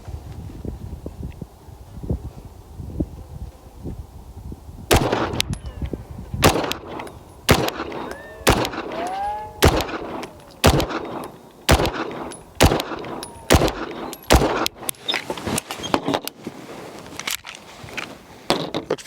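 Pistol fired at a bullseye target from 10 yards with 115-grain rounds, likely a budget 2011-style handgun; a quiet stretch gives way to a string of loud, sharp shots spaced roughly a second apart, ringing close to the microphone.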